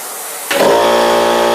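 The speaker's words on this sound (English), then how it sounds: "We can cut our air compressor off because we use a 33 gallon and it will last forever." Air compressor starting up for airbrushing a bluegill pattern, a sudden loud mechanical hum that kicks in after a quiet moment and holds steady, close by.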